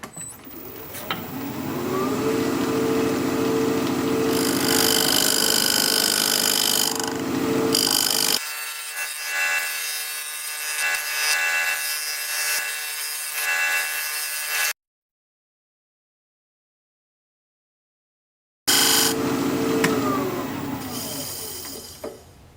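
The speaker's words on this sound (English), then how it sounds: "I'm just going to use this square point carbide tool to square this up" A square point carbide tool squares the rim of a thin-walled wooden bowl being re-turned on a lathe, giving a continuous scraping, whirring cut with a changing tone, a brief silent pause, then more cutting.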